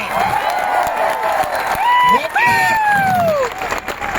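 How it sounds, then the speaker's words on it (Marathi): Loud applause from a crowd at a protest rally, sustained clapping with shouts and a rising, whistle-like cry cutting through the middle. "जोरात टाळ्या वाजून इथून साकून द्या."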